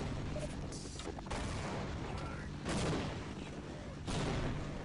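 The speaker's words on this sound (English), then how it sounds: "My grenade go in there." A grenade blast in the video game Half-Life comes as a loud, dense burst of noise, with several booming surges layered over constant gunfire-like rumble.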